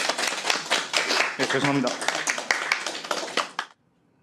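Applause breaks out at a recorded public hearing, a steady spatter of many hands clapping for a few seconds before stopping abruptly, with a voice speaking briefly over it.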